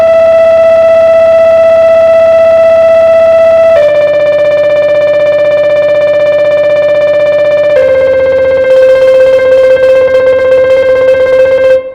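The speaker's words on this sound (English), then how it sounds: "And lastly, hemidemisemiquaver sounds like this." Very fast hemidemisemiquaver notes played as a rhythm demonstration, a dense stream of loud sustained tones that step between a few pitches with no talking.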